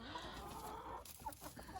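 Lohmann White laying hens cluck softly in the background, faint and scattered over a low steady rumble, with a few short clucks toward the end.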